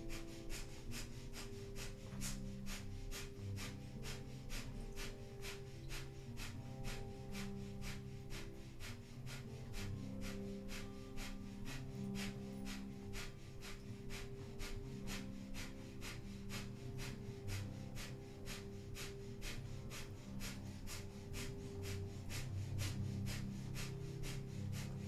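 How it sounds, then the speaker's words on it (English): Breath of fire in a Kundalini yoga session: rapid, rhythmic panting through the nose, short even puffs repeating several times a second for the whole stretch, close and steady, alone over a faint tonal background. "we'll begin a minute of breath of fire, panting like a dog through the nose"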